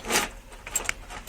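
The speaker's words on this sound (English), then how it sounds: "this is my keychain that I carry every day" A big, chunky everyday keychain holding four or five keys jangles close by in a few quick metallic shakes and clinks, brief and fairly quiet.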